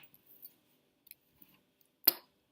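A single crisp snip of scissors cutting a Jamberry nail wrap in half, close and fairly loud, with a few faint soft clicks and handling taps before it in an otherwise quiet room.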